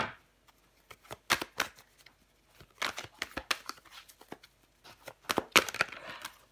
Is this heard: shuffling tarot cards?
yes